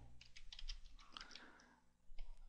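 Quick taps on a computer keyboard as a short word is typed into a render settings field, a close burst of light clicky keystrokes followed by a final keypress.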